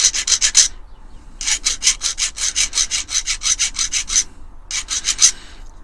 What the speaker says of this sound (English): you're gonna have to file this down a little touch, just to take the sharp edges off of that.